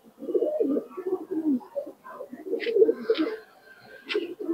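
A Punjab pigeon cooing close by, a run of soft low throaty coos in rolling phrases, with a few faint higher chirps from other birds behind.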